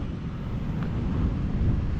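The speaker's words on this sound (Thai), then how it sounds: "ลมแม่งแรงอีก" Strong outdoor wind buffeting the microphone beside an Exciter 155 motorcycle while it is refueled before rain, a steady low rumbling roar with no speech.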